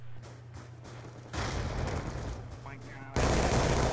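Bursts of rapid gunfire and explosive blasts ring out in a clan-match video game, growing louder in distinct surges over a steady background hum.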